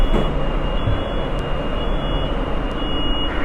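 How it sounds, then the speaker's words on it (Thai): Steady, loud rumble and rushing hiss of a moving electric train on Bangkok's Gold Line, heard from inside the carriage, with a faint high whine running throughout. "นี่ก็จะเป็น รถไฟฟ้านะครับ นี่ ก็จะเป็นบรรยากาศในขบวนรถนะครับ"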